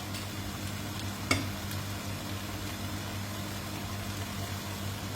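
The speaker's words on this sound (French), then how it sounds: "J'ajoute du bouillon." Rice for arancino simmers in a pan with broth just added, giving a steady, fairly quiet sizzling bubble with one sharp clink near the start and no voices.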